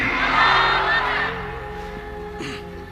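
A large crowd roars a collective shout in reply to a takbir call, the loud burst peaking early and then fading into a murmur.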